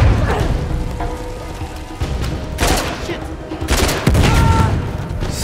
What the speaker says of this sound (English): Stop shooting rockets